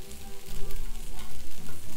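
Scallions sizzle and crackle in a hot pan, a close, continuous frying hiss with bursts of popping as they are stirred, no voices over it.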